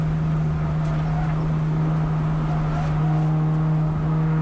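A Mitsubishi Evolution's engine drones steadily on the Thunder Hill East race track, heard from inside the car under constant throttle, with a strong low hum and road and wind noise throughout.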